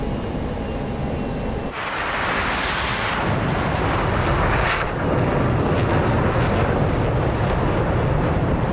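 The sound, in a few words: B-2 Spirit wake turbulence in video game DCS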